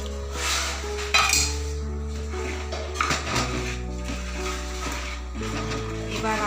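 A spoon scrapes and clinks against a metal pot as powder is stirred into choshir payesh, a traditional milk pudding. The knocks are irregular and come close over a low steady hum, with faint speech at times.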